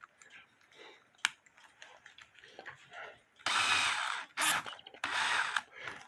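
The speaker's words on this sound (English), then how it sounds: "you can easily straighten it out by putting one end in the drill" An electric drill spins a bent cuckoo clock part to straighten it, with a few quiet clicks and handling sounds first, then two loud whirring bursts separated by a short pause and a brief spin between.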